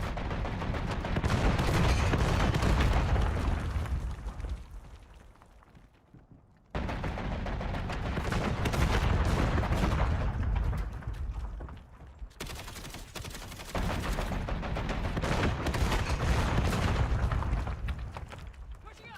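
Rapid automatic gunfire in a shooter video game, loud sustained bursts that fade briefly twice and then resume, dense and continuous.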